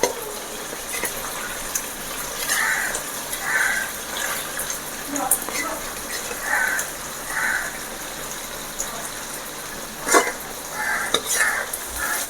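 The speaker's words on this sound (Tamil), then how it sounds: "இதே மாதிரி மீதி இருக்கிறது எல்லாத்தையுமே போட்டு பொறிச்சு எடுத்துருங்க" Catfish pieces fry in hot oil with a steady, soft sizzle, broken by occasional stirring and scraping sounds in the pan.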